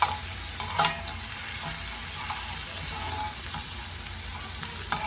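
Ginger sizzles steadily in a hot pan during dal makhni preparation, a continuous close frying hiss with a few faint clicks and no talking.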